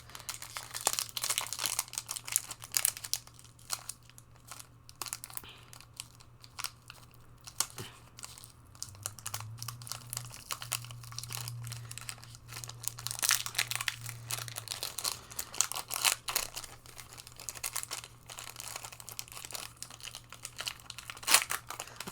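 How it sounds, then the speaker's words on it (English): A Magic: The Gathering booster pack wrapper is crinkled and torn open close up, with steady scattered plastic crackles and rustles and a low hum beneath. "these packs are getting harder and harder to open every time"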